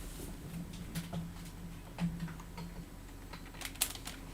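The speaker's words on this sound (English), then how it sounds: "I need my keyboard if I want to do the little hit cam thing" Typing on a computer keyboard, a few scattered soft key clicks at close range over a low steady hum, with no talking.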